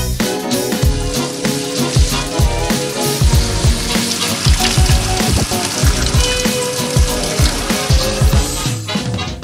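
Water pours into an automatic beer brewing kettle in a loud, steady splashing gush with bubbling and sputtering throughout, and no one speaks.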